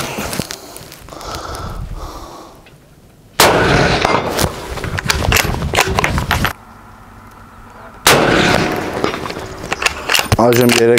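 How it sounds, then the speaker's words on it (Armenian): Baikal 145 LOS bolt-action rifle in .308 Win fired at targets out to 300 metres on an outdoor range, loud sharp reports with echoing tails in separate bursts between quieter stretches where people talk. "կրակենք տարբեր հեռավորություններ մինչև 300 մետր, քանի որ կանգնած ենք հիմա կրակելու"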